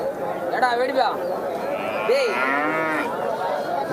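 Native cattle low at a busy village cattle market, with several drawn-out moos rising and falling close by over a murmur of crowd chatter.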